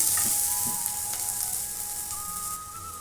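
Cashews frying in a pan for paneer butter masala: a close, steady sizzle with light crackling and stirring, plus a faint steady tonal whine in the background, no voices.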